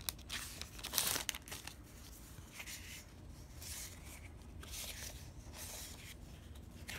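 Crinkly sticker paper from a craft kit rustles and crackles in a few quiet, close bursts as it is handled, with soft pauses between the movements.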